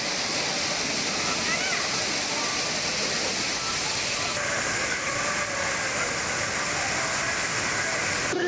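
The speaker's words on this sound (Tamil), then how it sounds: "கன்னியாகுமரி மாவட்டம் திருப்பருப்பு அருவியில் ஆர்ப்பரித்து கொட்டும் தண்ணீரில் சுற்றுலா பயணிகள் ஆனந்த குளியலிட்டு" Thiruparappu waterfall in Kanyakumari district pours down in a constant, loud, hissing roar, with bathing tourists' voices faintly mixed into the rushing water.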